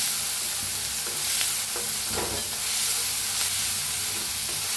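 Ground green chillies roast and sizzle in a hot pan with a steady, loud frying hiss and faint stirring scrapes throughout, close up.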